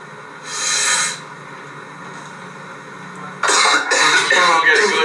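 A person coughs nearby, one harsh burst and then a rougher cluster of coughs, loud against a quiet room.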